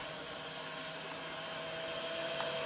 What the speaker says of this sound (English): the robot vacuum